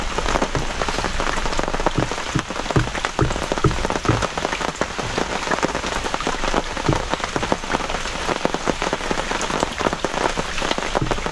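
Steady rain falling beside a river, a dense patter of drops hitting surfaces, close and continuous without talk.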